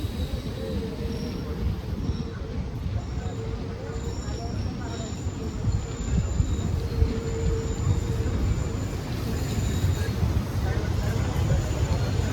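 The Vanchinad Express pulls into Thiruvananthapuram Pettah station, a loud continuous rumble of rolling carriages heard from on board, with faint high squeals of wheels braking on the rails.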